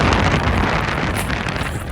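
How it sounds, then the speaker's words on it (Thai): Strong wind near the docks around Liverpool buffets a camera microphone, making a loud, continuous low roar and rumble that never eases. No one speaks during it. "สภาพเสียงลมก็จะประมาณนี้ฮะอยากจะให้ฟังว่าลมมันแรงขนาดไหนครับ"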